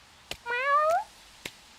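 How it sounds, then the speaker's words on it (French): A black cat lets out a single clear meow, rising then falling, between a few soft knocks in a quiet room. "Ses miaulements ressemblent comme de gouttes d'eau à ceux de Chibi."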